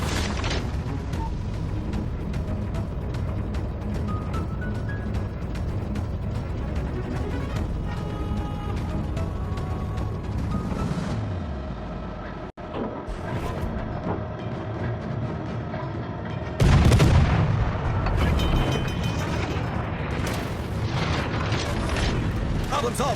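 Warships exchange fire in a naval battle video game, with continuous rumbling booms, bursts and explosions alongside a steady engine-like drone, growing louder and harsher near the end.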